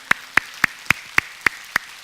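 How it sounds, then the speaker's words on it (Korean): A Korean church congregation claps in praise after a Sunday prayer: eight sharp, evenly spaced claps in a steady rhythm, crisp and close with quiet between them. "하나님께 영광의 박수 올립시다"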